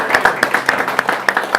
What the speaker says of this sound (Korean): 주님께 감사의 영광 박수 올려드립니다